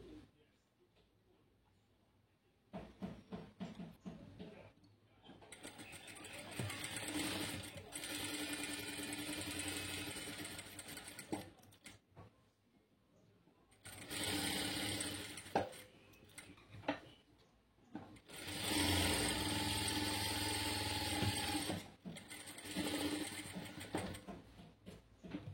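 A sewing machine stitches fabric while an invisible zip is attached, running in several loud, close bursts of rapid mechanical whirring separated by short quiet pauses.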